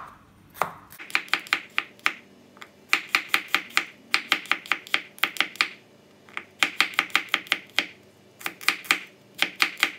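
A sharp knife chops garlic quickly on a cutting board in rapid rhythmic bursts of sharp taps, pausing briefly between runs, close up with no talking.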